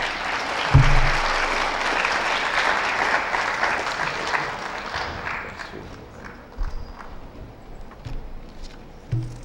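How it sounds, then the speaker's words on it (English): Applause welcoming a speaker at an Indigenous Peoples forum at the Arizona Capitol, a loud, dense wash of clapping that slowly thins out, with a few sharp knocks and thumps near the microphone. "I want to ask you all to give her a round of applause"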